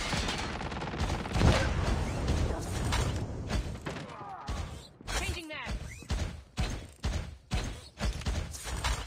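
An M4 magazine being changed in Call of Duty Mobile, loud mechanical clicks and clacks over dense gunfire, followed by a series of rhythmic thumping bursts.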